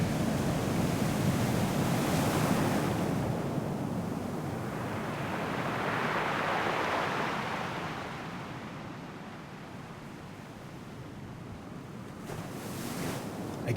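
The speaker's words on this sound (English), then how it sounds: "I don't think I'm supposed to be hearing water down here." Steady wash of waves and rushing water in the depths of the Luna Abyss video game, a broad surf-like roar that swells and recedes slowly, with no voices over it.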